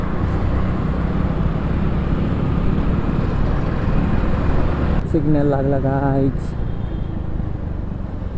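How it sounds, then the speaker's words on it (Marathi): Heavy road traffic in Pune makes a constant loud rumble of engines, with a horn blaring briefly near the middle and a voice speaking over the din. "खतरनाक ट्रॅफिक आहे इकडं"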